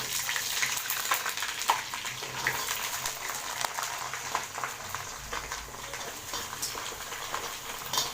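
Mango pieces for a sweet, sour and spicy pickle, coated in turmeric and chili, fry in hot oil with a steady, dense sizzle and crackle that holds close and continuous throughout, with no talking.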